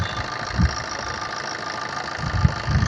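A 2012 Maruti Ritz LDI diesel engine idles steadily at close range, with a continuous mid-pitched rumble and faint periodic knocking pulses, no voices.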